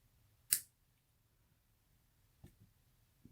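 A single sharp snip of wire cutters trimming excess jewelry wire on a wire-woven pendant, a short bright click followed by a couple of faint soft taps in quiet surroundings.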